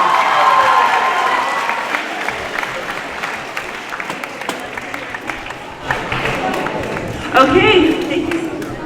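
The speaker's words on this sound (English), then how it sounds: "Let's give them a big round of applause." An audience at an 8th grade awards ceremony claps and cheers for the students. The applause starts strong, thins out, then swells again, with people talking over it.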